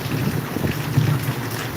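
Heavy rain pours steadily at Maharajpur, a dense, even wash of noise with gusty low rumble like wind buffeting the microphone, continuous and fairly loud with no voices.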